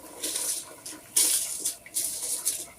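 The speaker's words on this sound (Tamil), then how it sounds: "கழுவி வச்ச சீரக சம்பா அரிசி தண்ணியை வடிச்சிட்டு எடுத்து இதுக்குள்ளே சேர்த்துடலாம்" Water drains and splashes from washed seeraga samba rice in uneven pulses of hissing, trickling liquid, close by and moderately loud, with no talking.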